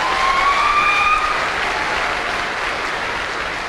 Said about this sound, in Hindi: मैं चाहता हूं दिल से योगेश यादव के लिए जोरदार तालियां बजाइए।